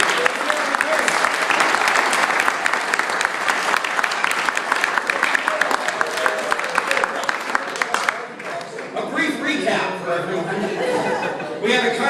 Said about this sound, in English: please accept this round of applause.